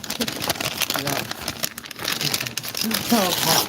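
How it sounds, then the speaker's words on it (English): Wrapping being torn and crinkled off a package holding a sports jersey, rustling and crumpling in bursts while several people talk and laugh over it nearby. "I still gotta unwrap it."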